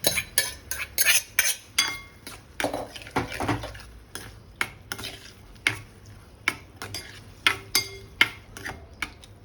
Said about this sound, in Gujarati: હવે એમાં આપણે જે દૂધીને ક્રશ કરેલી હતી એડ કરી દઈશું